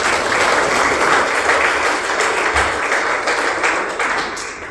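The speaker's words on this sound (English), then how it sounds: "Let's give them a round of applause." A crowd at a Wests Tigers event applauds, with dense, steady clapping that holds across the whole stretch and eases slightly toward the end.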